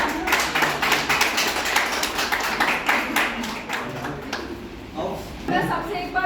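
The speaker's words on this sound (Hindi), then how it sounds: "तो सर के लिए जोरदार तालियां" Loud audience applause at a Hindi-language seminar on memorizing cubes, dense clapping that carries steadily for several seconds and eases slightly near the end.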